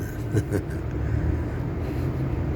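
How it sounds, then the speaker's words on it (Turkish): A car brought up along a main city street by parking attendants, its engine a steady low rumble close by amid general traffic noise, with no voices heard. "Sağ olsunlar beni görünce arabaya alıp geliyorlar ya."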